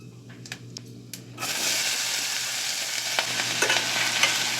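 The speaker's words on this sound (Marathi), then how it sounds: "आणि थोडा खडा मसाल्याची फोडणी द्यायची" Cumin and whole spices hit hot oil in a pan for a tempering, bursting into a steady, loud sizzle after a few quiet clicks and taps, then frying continuously, with no talking.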